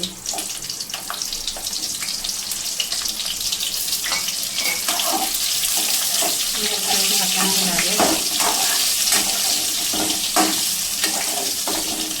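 Eggplant fries in hot oil in a pan on a medium gas flame, a steady, dense hiss and crackle running throughout, with light clinks and a voice speaking faintly underneath.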